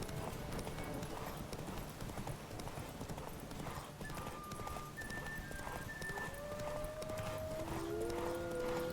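Horse galloping in The Witcher 3 video game, a steady rapid clip-clop of hooves under continuous game sound, with a few tonal musical notes rising late on.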